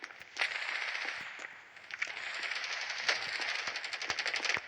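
Rapid bursts of gunfire in the video game Standoff 2, crackling shots in quick succession with brief pauses, fairly faint and without any talking.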